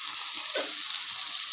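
Mixed vegetables with spices sizzling and frying in a pan, a steady close hiss with a brief stir partway through.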